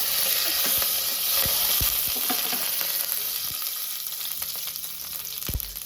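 Mustard seeds and curry leaves sizzling in hot oil in a pan for sambar, a steady loud frying hiss with scattered sharp pops and crackles, close and with no talk.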